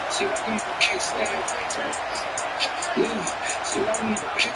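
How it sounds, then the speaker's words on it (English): A big Ohio State Buckeyes stadium crowd roars loudly and steadily on third down during a college football game against Notre Dame, with a broadcaster talking over the noise. "the Buckeye crowd alive on 3rd down"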